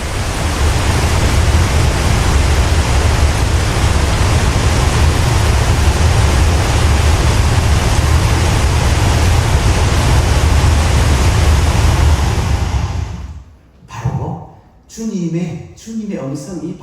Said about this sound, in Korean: 그 나이아가라 폭포의 그 물소리